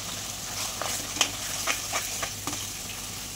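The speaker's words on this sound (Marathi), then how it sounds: "आता आपण मसाला परतायला टाकूया याच्यामध्ये" Mutton masala sizzles in a pan as it is fried and stirred, a soft steady hiss with light scraping stir strokes at irregular intervals, close and fairly quiet.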